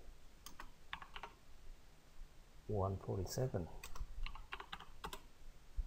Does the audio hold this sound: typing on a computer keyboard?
yes